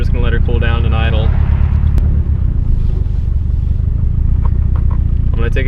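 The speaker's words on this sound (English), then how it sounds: "Now we're just gonna let her cool down and idle." A Nissan 240SX with a built SR20DET engine idles after its first start-up, a steady low rumble heard close by, with someone talking over it at the start.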